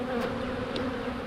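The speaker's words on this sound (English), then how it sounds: "got some bees in this box" Agitated bees buzz inside a hive box, a steady, dense drone that holds close and loud for the whole moment without letup.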